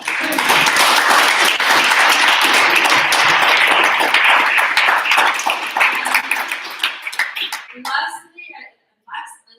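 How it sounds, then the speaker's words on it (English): An audience at student presentations applauds loudly and steadily for several seconds, the clapping thinning out and fading near the end before a voice briefly speaks. "A big applause"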